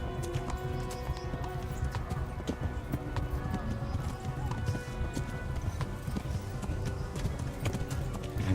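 Horse hooves clip-clop in a quick, steady rhythm throughout, with a continuous background of game sounds and faint speech, in the video game Kingdom Come: Deliverance.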